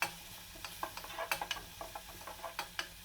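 Onion with ginger garlic paste being sautéed in a pan while cooking Arabic chicken Bukhari rice, heard as a quiet, close scraping and stirring with sharp spoon clicks and taps against the pan over a faint sizzle.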